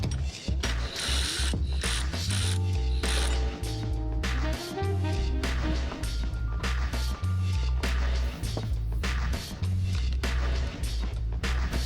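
A hand ratchet works a bolt during a head gasket job on a 3800 engine, with quick clicking bursts of ratcheting separated by brief pauses, close and loud over faint mechanical clatter.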